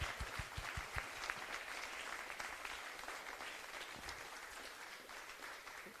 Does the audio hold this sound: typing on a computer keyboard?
no